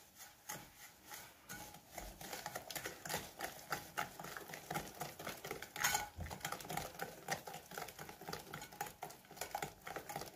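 Three eggs and a cup of granulated sugar are whisked in a bowl, the whisk clicking and scraping in quick, steady rhythmic strokes, close and fairly quiet, with no voices.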